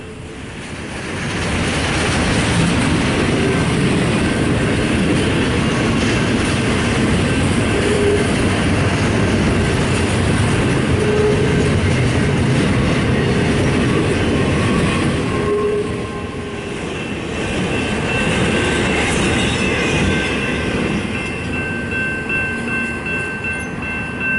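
A BNSF freight train led by EMD SD70ACE locomotives rolls past on the Cajon Sub. The rumble and rail noise stay loud and close for most of the pass, dipping briefly before building again.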